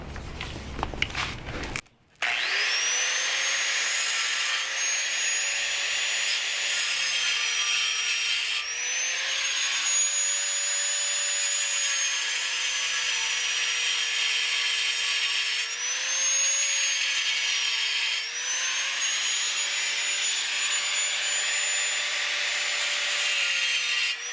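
An angle grinder cuts through a nut on a spare tire holder fitted to a Dodge Ram 3500 van, a loud steady high whine that rises and dips in pitch as pressure changes, running almost continuously after a short start.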